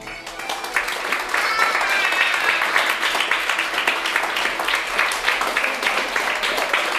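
Sustained applause from an audience at a costume finale, a dense steady wash of clapping that stays loud for the whole stretch with voices mixed into the crowd noise.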